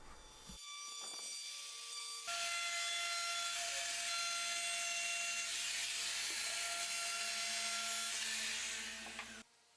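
Cherry wood chair parts being hand sanded, a steady close abrasive rasping that starts after about two seconds and runs continuously before stopping abruptly near the end.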